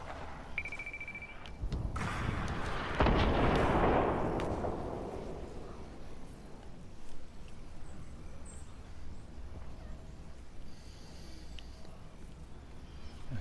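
Hunting rifle fire in an online shooter game, a sharp report followed by a long fading boom and rumble, then quieter game ambience with scattered distant clicks and pops.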